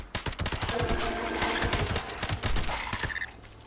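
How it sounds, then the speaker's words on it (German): Gunfire rattles in Fallout 76 as rapid, closely spaced shots come in uneven bursts, loud and near, before tapering off at the end. "Ich will nicht die Munition so verholzen, deswegen schieße ich ganz vorsichtig."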